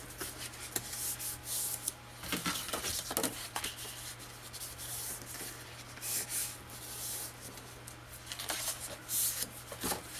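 Paper being folded and creased by hand for a Disney-themed scrapbook album page, soft rustling, rubbing and crinkling in irregular bursts, close and fairly quiet, with no talking.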